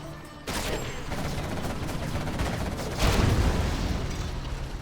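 Demolition charge blowing up in a real-time strategy game on a desert map, a sudden loud blast followed by sustained rumbling gunfire and a second heavy surge of explosions near the end.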